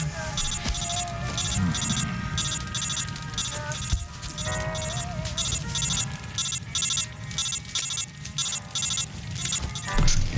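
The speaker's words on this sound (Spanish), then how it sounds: "apaga ese pinche celular" A mobile phone ringtone plays as a repeating electronic melody, loud and continuous, layered over game sound and background noise with brief talk.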